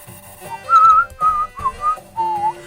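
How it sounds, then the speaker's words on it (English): A person whistles an improvised, wandering tune in several short sustained phrases, close and clear, with faint background hum under it. "I shouldn't whistle, I have no tune in my head."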